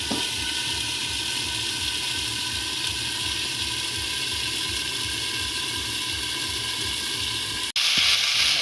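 Meat curry cooks in a covered pot over a wood fire, giving a steady bubbling, sizzling simmer with a faint regular rattle underneath, continuous and close, with a sudden brighter hiss near the end.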